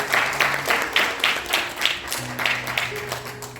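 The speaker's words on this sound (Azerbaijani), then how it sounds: "Mən ilk öncə Qara Qarayev adına Mərkəzi İncəsənət Məktəbinin Nur ansamblının bədii rəhbəri Nurlan Cəfərlinskini alqışlarınızla səhnəyə dəvət etmək istəyirəm." At a music school concert marking a poet's centenary, an audience claps together in a steady rhythmic beat to welcome an ensemble leader to the stage, with faint sustained tones underneath.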